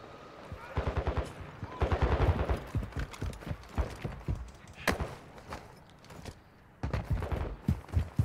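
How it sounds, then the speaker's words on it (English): Call of Duty DMZ bots fire guns in rapid bursts and scattered single shots, some sharp and close and others more distant, in irregular clusters over several seconds with faint background game noise. "I hear a lot of bots shooting."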